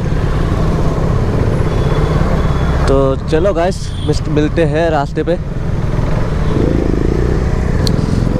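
A KTM RC 390 motorcycle being ridden on an evening road: a steady, close engine drone with wind rush runs throughout while someone talks over it partway through.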